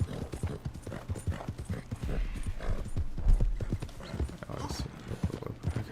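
Horse hooves clip-clop at a steady trotting rhythm in Red Dead Redemption 2, close and fairly loud, with occasional game sounds and a brief whinny-like hint mixed in.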